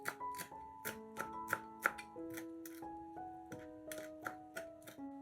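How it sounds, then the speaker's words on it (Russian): A small bunch of parsley is chopped finely with a knife, making quick, steady taps close by over background music. "Мелко нарезаем небольшой пучок петрушки."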